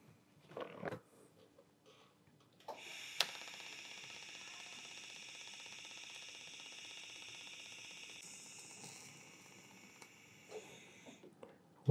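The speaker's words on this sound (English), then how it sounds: "And now we just fully weld this side." Fusion weld on stainless steel at about 45 amps, a steady, even buzzing hiss lasting around eight seconds with faint handling clicks before and after.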